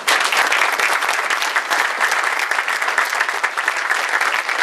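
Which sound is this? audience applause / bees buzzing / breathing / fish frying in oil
audience applause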